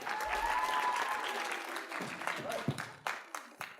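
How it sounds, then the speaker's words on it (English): Applause from an audience at a school jazz video conference, a dense burst of clapping that thins out into scattered claps over a few seconds. "Let's give him a big round of applause"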